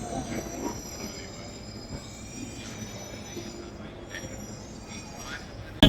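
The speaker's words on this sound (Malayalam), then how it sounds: "അടുത്ത മെട്രോയിലേക്ക് കയറുന്നു" A metro train to Sarojini Nagar rumbling along with high-pitched wheel squeals and faint voices in the background, ending in a sudden loud bump.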